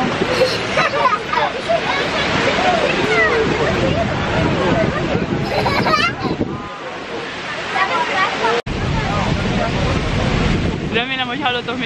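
Wind buffets the microphone over open water in Switzerland, with steady rushing noise and people talking throughout, briefly cutting out near the end.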